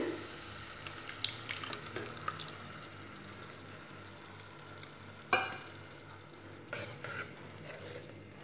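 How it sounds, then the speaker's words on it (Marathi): Cooked toor dal poured into fenugreek leaves fried in oil, a soft watery splash with faint sizzle and a few clinks of a spoon against the pan, fairly quiet and close, no voices. "आता आपण याच्यामध्ये टाकणार आहोत शिजून घेतलेलं तुरीचं वरण"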